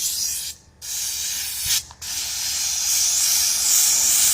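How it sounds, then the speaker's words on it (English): Sandblasting the hub of a Pile Super 55 tractor wheel gives a loud, steady high-pitched hiss of abrasive spray, broken by two short pauses near the start before it continues without talk. "Here we're sanding the hub on the Pile Super 55. Sandblasting there."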